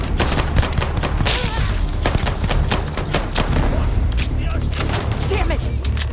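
Dense bursts of Starfield gunfire crackle across the whole stretch, rapid shots overlapping in a loud, continuous fusillade with a low rumble underneath and voices mixed in.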